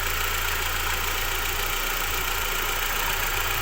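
A car engine with a hard-starting fault runs at a steady idle, a close, even, low rumble with a faint rhythmic knock that continues unchanged throughout.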